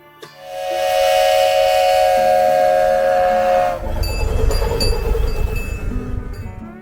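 A steam locomotive at a railfest at a Christmas tree farm in Reedley sounds a long, loud, steady whistle for about three seconds, then the whistle cuts off and heavy chuffing and rumbling from the engine carry on close by.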